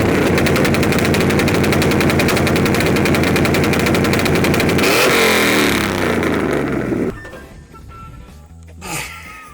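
An LS1-powered Silverado with a T56 manual on a two-step launch limiter fires a loud, rapid machine-gun volley of exhaust pops and bangs for about five seconds, spitting fireballs, then drops to a quieter idle with faint scattered sounds.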